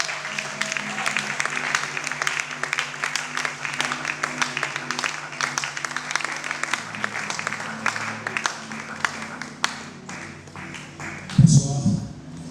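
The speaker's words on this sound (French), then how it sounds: "sous vos applaudissements s'il vous plaît" An audience at a talent show gives sustained applause as a guest approaches the stage, many sharp claps over music playing underneath, fading toward the end as a voice begins to speak.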